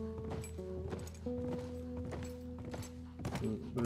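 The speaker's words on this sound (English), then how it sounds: "I don't like the horses in this one." Horse hooves clip-clop in The Last of Us, a run of uneven thuds over sustained background music tones, moderately quiet throughout.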